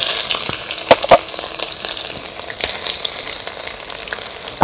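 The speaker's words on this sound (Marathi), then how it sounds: "आपलं तेल गरम झालंय त्यात मोहरी टाकून घेऊया आपली मोहरी तडकली" Mustard seeds crackle and pop in hot oil during tempering for a tawa samosa filling: a dense, steady sizzle broken by sharp, irregular pops, two of them louder close together, with no voices.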